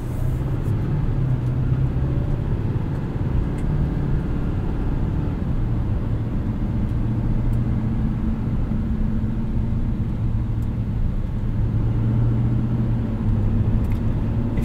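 Steady low engine drone inside a 2024 Chevrolet Silverado 2500HD ZR2 with the 6.6-liter Duramax turbo diesel while driving and towing, a constant cabin rumble with a faint hum and no talking.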